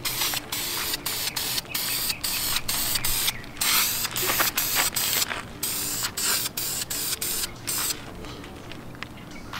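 Spray paint hisses from an aerosol can in repeated bursts with brief pauses between them as wheels are coated, loud and close, the bursts falling into a rhythmic on-off pattern.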